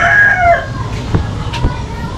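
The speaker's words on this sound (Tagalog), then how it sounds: "Ito kasing manok." A native rooster crows loudly and close by in one long, drawn-out call, followed by a few fainter clucks and scattered farmyard noise.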